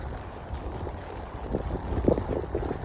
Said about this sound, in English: It is wild windy.